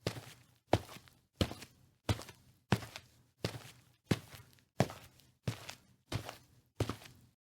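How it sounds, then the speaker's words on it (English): Heavy footsteps approach in an animated cartoon scene, with about eleven evenly spaced, thudding steps at a slow, steady walking pace and no talk over them. "I can hear footsteps now."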